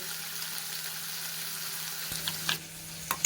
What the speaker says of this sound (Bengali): এমনি একটু তেলে নেড়ে নেবো হালকা ভাজা হয়ে গেলে নামিয়ে ফেলব